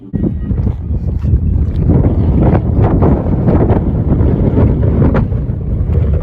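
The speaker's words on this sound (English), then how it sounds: "Windy today." Strong gusty wind in western Nebraska buffeting the microphone, a loud continuous rumble with irregular bursts throughout.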